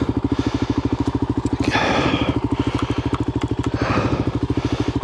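A Voge 300 motorcycle, recently crashed, rolls along with its single-cylinder engine pulsing in a steady, close, loud rhythm, while louder bursts of clatter and rushing noise swell in around two seconds and again near four seconds.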